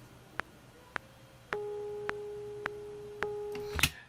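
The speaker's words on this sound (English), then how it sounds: "when I hit play, all we're going to hear is the bottom alto part" MIDI playback of the bottom alto voice part in Logic, a plain sine-like synthetic tone holding steady pitches with evenly spaced metronome-like clicks, ending in a brief louder burst.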